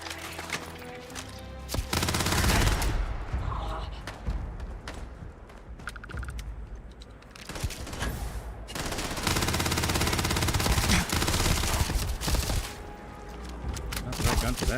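Gunfire in the Starfield video game, long stretches of rapid automatic shots and heavy bursts at close range, loud, with a person talking over parts of the action.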